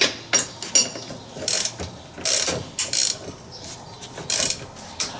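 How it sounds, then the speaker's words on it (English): A wrench ratchets while breaking loose an 18 mm nut on a Chevy Uplander steering rack, giving close, loud bursts of clicking separated by brief pauses. "I can at least break it loose with the wrench"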